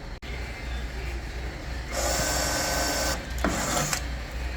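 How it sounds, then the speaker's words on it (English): A power drill boring a hole for a heater switch inside a Bombardier vehicle: a steady high whirring burst of about a second, a brief pause, then another shorter run, loud and close. "Dad just drilled a new hole for the interior light switch"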